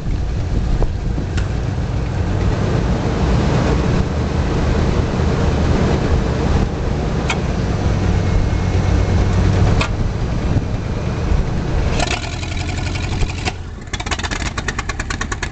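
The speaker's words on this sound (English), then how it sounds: "Tracy, quit hitting the gas." A Cadillac engine with a sparking battery runs close and loud in a steady rough rumble with revs, breaking into sharper crackling pops toward the end.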